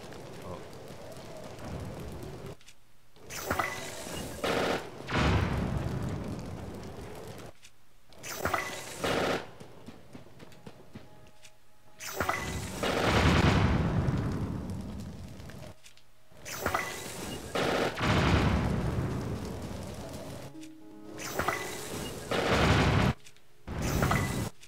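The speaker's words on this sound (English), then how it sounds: "throw some bombs." Bombs are thrown and burst in a Nintendo Switch video game, giving repeated loud booming bursts and crackling blasts separated by brief near-silent gaps, with no talking.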